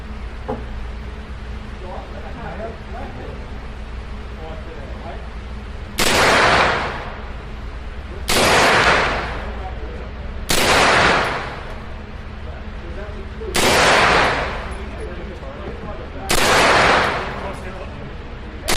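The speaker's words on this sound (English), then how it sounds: "Let's keep on shooting." Five loud gunshots from an Aero Precision EPC 9 pistol-caliber carbine at an outdoor range, fired singly at roughly two-second intervals, each a sharp crack with a brief echoing tail over steady background noise.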